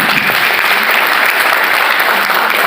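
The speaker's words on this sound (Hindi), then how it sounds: "पर जोरदार तालियां चाहूँगा सर के लिए" Loud, dense applause from a seminar audience at an RCM event led by Manjeet Sir at Vijayam Lawn, DDU, sustained and even throughout with no pause.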